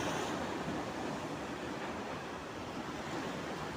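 Sea waves breaking along the shore beside Bekal Fort in Kasaragod, heard as a steady, broad wash of surf mixed with wind, continuous and fairly loud throughout with no talking.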